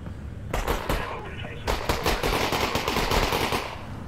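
Sustained loud gunfire in Half-Life: Alyx, a dense run of rapid overlapping shots and booming impacts that starts abruptly and keeps going for several seconds, up close and chaotic, with a voice faintly underneath.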